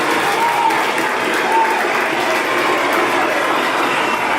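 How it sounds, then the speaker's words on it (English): An audience at a live talk event on love, sex and relationships gives a round of applause, a dense, steady wash of many hands clapping continuously and evenly loud throughout. "give yourselves a round of applause for coming out"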